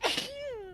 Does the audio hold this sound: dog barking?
no